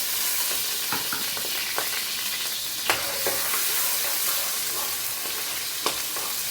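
Onion frying in olive oil, a steady sizzle with scattered crackles and pops and occasional stirring scrapes throughout.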